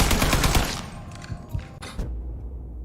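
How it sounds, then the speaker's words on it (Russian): Burst of automatic gunfire in Mafia 3, loud rapid shots opening the moment, then scattered lighter thumps and a couple of single cracks fading into quieter game ambience. "Не, ну стрельба, конечно, приятная."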